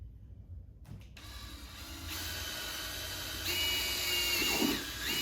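A power drill bores through a motorcycle's rear speaker panel on a BMW K1600B, whirring steadily after a brief silence and growing louder partway through, with grinding mechanical clatter underneath.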